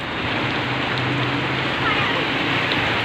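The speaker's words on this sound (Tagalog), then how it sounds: "Ayan guys, ang lakas pa rin ng ulan." Heavy rain pours in a dense, steady hiss, with a faint low hum running underneath throughout.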